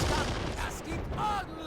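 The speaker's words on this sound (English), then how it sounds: "Seems as though we have autocannon firing again." Autocannon fire in the WWII strategy game Men of War: Assault Squad 2, during a 1940 battle at Dinant: rapid bursts of sharp shots in repeated volleys, moderately loud, with some muffled battle noise.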